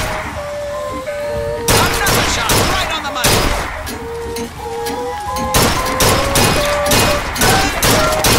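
Repeated gunshots crack out in a Bioshock Infinite shooting gallery, loud bursts spread across the clip among game music and chimes, with no talking heard.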